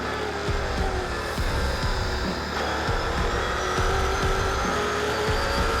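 Race cars battling for position on a circuit, one trying to overtake another; engines whine and drone at a distance with steady high tones and passing surges, plus a faint tire squeal.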